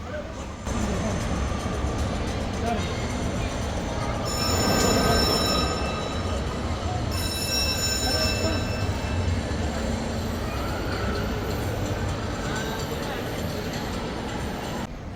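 A thrill ride at Genting Highlands theme park in Malaysia runs with a continuous rumbling, rattling roar and occasional metallic squeals. A person talks over the noise throughout.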